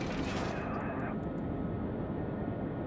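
Naval gun salvos in World of Warships, firing on a ship from the Soviet cruiser Molotov, give a heavy booming burst with a rumbling tail that fades into steady background noise.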